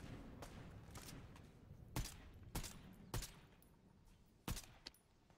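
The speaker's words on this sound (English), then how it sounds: "them gunshots are pretty close" Gunfire in Fortnite: a handful of sharp, separate shots spaced a second or so apart over a low background rumble, fairly close and distinct.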